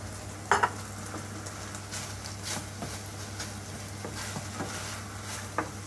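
Chicken fillet pieces and mushrooms fry in a pan while being stirred. A soft, steady sizzle runs under scattered scrapes and clinks of a utensil against the pan, with a couple of sharper knocks.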